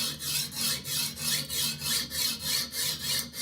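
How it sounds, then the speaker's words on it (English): A Kitchen Aid knife edge scrapes up and down across a coarse sharpening stone in even, rhythmic rasping strokes, about three per second, close and steady with no voices. "I'm gonna go up and down pretty much just all the way across, and I'm just trying to remove metal right now."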